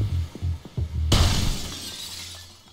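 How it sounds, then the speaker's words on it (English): Glass shatters loudly inside the Payday 2 video game, a sudden crash followed by a bright spray of falling shards that trails off over about a second and a half, with low game rumble underneath. "And just demolishing some good glass"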